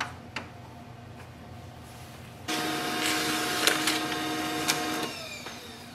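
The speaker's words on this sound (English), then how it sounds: "We are just going to print the printer's password" A Pantum P2509W laser printer springs to life after a few faint ticks, then runs for about two and a half seconds with a steady mechanical whir and a few light clicks and rattles before quieting.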